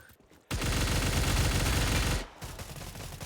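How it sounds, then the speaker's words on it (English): An MG3 machine gun in a video game, old firing sound: a single loud, dense, sustained burst lasting about two seconds, then a short tail of quieter shots and ambient noise. "This is the old sound of MG3 and other guns"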